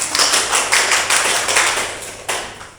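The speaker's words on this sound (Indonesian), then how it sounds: "Tepuk tangan buat Mbak Dila." Classroom applause for a student, a short burst of rhythmic clapping from a small group that fades slightly before a final louder clap, with no talking over it.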